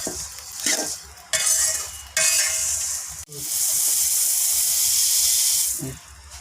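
Spices are dry-roasted in a pan for chili powder, with bursts of stirring scrapes and rattling broken by brief pauses, then a long continuous hissing scrape near at hand.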